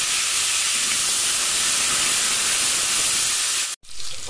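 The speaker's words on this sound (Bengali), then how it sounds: "কেটে রাখা আলুগুলো দিয়ে লাল করে ভেজে নেব।" Cut potatoes hit hot oil with a loud, dense, steady hiss of frying, close and continuous, broken only by a brief dropout near the end.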